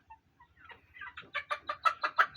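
Tiger chickens on a poultry farm clucking close by in a quickening, increasingly loud run of sharp calls, with no other sounds around them.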